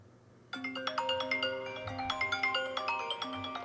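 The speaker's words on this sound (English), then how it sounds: "Am I getting a phone call?" A phone ringtone starts suddenly and keeps playing a bright, repeating chime melody in a quick steady rhythm, moderately loud and close.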